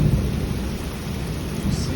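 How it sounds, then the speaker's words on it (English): Thunder rumbles low and steady through a heavy rainstorm, a continuous deep roll over constant rain hiss lasting the whole stretch, fairly close and loud. "You see or hear thunder."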